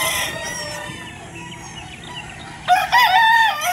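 A gamefowl broodcock rooster crows nearby, a loud drawn-out call rising near the end, with another faint crow and clucking farm birds earlier.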